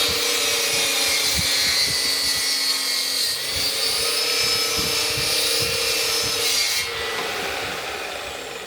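A hand saw cuts a wooden fence post for a ranch-style fence with a steady, rasping back-and-forth rhythm of strokes. The sawing is loud and close, with no talk over it, and it eases off near the end.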